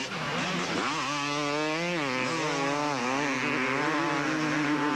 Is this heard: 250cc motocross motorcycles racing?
yes